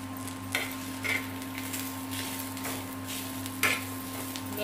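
Cumin seeds, ginger and garlic sizzle in a hot pan for rassa vada. A steady frying hiss runs underneath, and a few scraping stirs break through at irregular moments. No one speaks.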